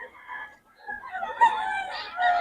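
A rooster at the Bocaue poultry market gives faint, short crowing calls against a quiet background.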